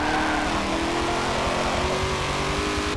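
The engine of a 2017 Chevrolet Camaro ZL1 Forza Edition in Forza Motorsport 7 drones loud and continuous, revving steadily with rising pitch and a gear change along the way, with no talking.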